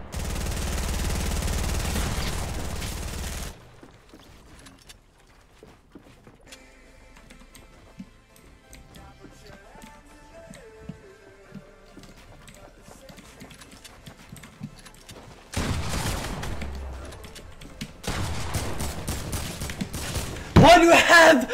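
Automated turret gunfire in the battle-royale shooter Fortnite during a tournament match: loud, dense bursts of rapid shots open and close the stretch, with a quieter lull between and excited voices over it.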